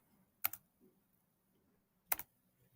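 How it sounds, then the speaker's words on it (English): Two faint, isolated key presses on a computer keyboard, spaced well apart in a quiet room, while login details are entered during setup of a slim wall-mounted vending machine. "We're going to type in the username."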